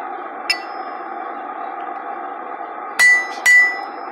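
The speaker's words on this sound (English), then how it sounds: "there's something satisfying about punching a hole through a piece of steel" A blacksmith's hammer strikes hot steel on an anvil to punch a hole, with one lighter tap then two loud ringing blows close together over a steady background hum.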